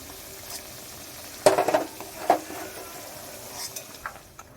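Fried potatoes being lifted out of hot oil in a pan, a low steady sizzle with a couple of sharp metallic scrapes and clinks of a spoon against the pan, close by, no talking.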